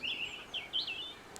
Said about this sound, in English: hear the birds, all types of birds